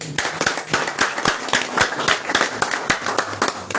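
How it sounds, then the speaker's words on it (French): Crowd at a political party gathering claps steadily and energetically, a dense run of many hands applauding close by, with a few faint voices mixed underneath. "acclamons-le une fois de plus"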